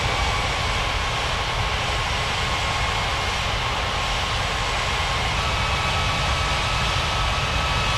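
An aircraft engine taxiing in an air traffic control video game, a loud, steady, broadband jet roar that runs without a break and with no voices over it.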